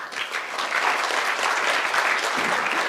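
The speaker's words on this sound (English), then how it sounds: "let's get a round of applause to two speakers" An audience applauds two speakers at the close of a joint Chung-Hua Institution and Brookings Institution panel session, with continuous, fairly loud clapping that fills the whole stretch.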